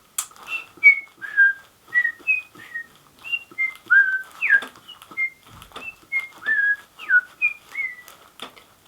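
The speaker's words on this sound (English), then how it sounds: "What if the puppet is whistling?" A person whistles a lively, bird-like melody of short rising and falling notes in a quick, even rhythm, close and clear against silence, performed as the breath of a puppet.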